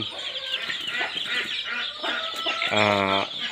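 Domestic chickens with a brood of newly hatched chicks make busy, close clucking and chirping, overlapping calls, ending in a louder drawn-out hen squawk.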